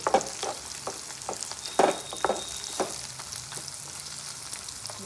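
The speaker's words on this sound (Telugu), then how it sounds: "చూడండి కొంచెం ఫ్రై చేసుకోవాలి" Ingredients for a Telugu mutton curry fry quietly in a pan, a soft background sizzle broken by several sharp scraping stirs and taps of a spoon.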